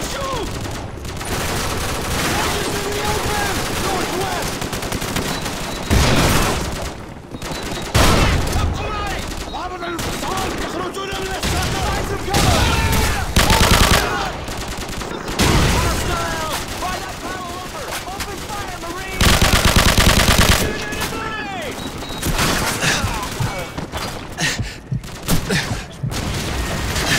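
Dense gunfire from the Call of Duty 4: Modern Warfare video game fills the scene, with rapid automatic bursts, heavy booms and overlapping shots, loud and nearly continuous with brief lulls, alongside shouted game voices.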